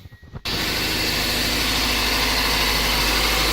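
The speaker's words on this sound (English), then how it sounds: "And start the engine again." A car engine with a suspected faulty ignition coil catches abruptly after a brief quiet start, then settles into a steady, loud, even idle hum that continues to the end.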